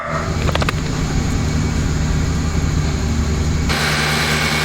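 Fiat Uno engine idles at raised revs after its ignition timing is advanced, a loud steady droning rumble close by with a brief rattle early on and a shift in tone near the end.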